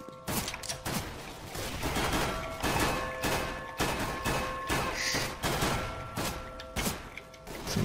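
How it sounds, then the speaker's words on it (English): Rapid, evenly spaced pistol shots in Counter-Strike: Global Offensive during a competitive match, loud and repeated steadily over several seconds, with a tonal hum running underneath. "Get him with the pistol."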